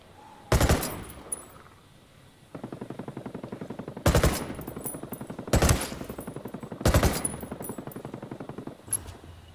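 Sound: gunfire in a video game

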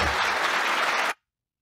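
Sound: applause in played video clip

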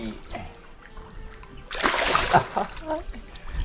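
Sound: pangasius fish splashing water

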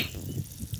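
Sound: water flowing from a sprinkler

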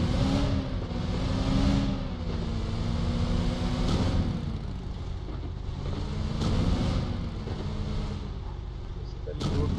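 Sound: Miramar car engine in video game PUBG Mobile

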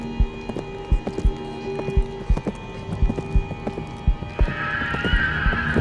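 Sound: approaching footsteps in the video game Agony

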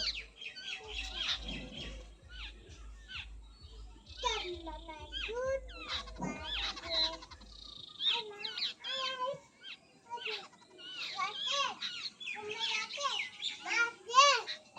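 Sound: birds playing and feeding outdoors

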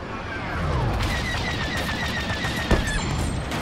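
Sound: gunfire in Star Wars Battlefront II video game

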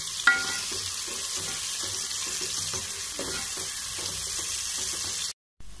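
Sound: onions sautéing in oil until brown, for beef biryani

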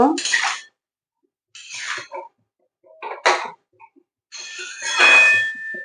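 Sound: stirring vegetables in a cooking pan

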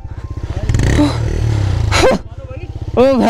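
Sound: motorcycle revving while stuck in snow

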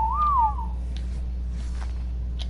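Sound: whistle command in the Ark video game

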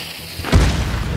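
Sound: bomb explosion in Hunt: Showdown video game

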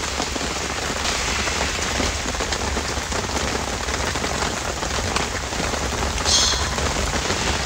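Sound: heavy rain falling on a car camping site

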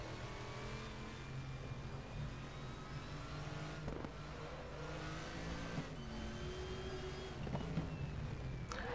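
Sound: crossplane crank American V8 engine revving

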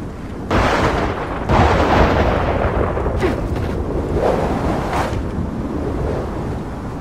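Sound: storm wind in Gears of War 4 video game

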